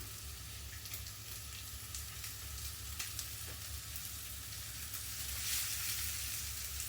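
Beef short ribs sizzling and frying in a pan, a steady close crackle with occasional sharper pops and brief stirring or scraping moments, no voices.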